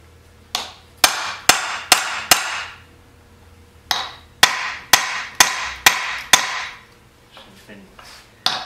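A blunt chisel is struck with a hammer to split a part on a Wheelie Horse garden tractor under restoration: sharp, ringing metallic blows close by, a quick run of five, a pause, then six more and a couple of lighter taps.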